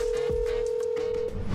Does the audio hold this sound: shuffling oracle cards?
no